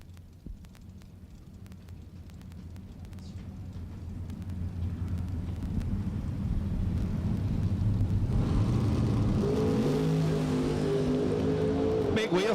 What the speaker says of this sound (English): Big wheel stand from the Nova in the right lane.